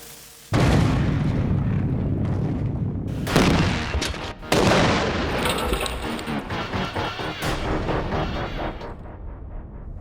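A MythBusters cannon fired during a calibration test with a lit fuse: a sudden loud blast, then a second booming report a few seconds later, each trailing into rumbling echoes outdoors.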